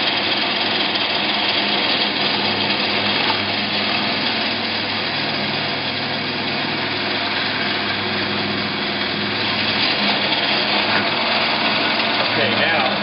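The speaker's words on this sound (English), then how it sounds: "Now we'll go back and finish drilling the rest of the way through." A power drill bores through a cable drum, its steady high-pitched whine running loud and continuous with a constant mechanical hum underneath.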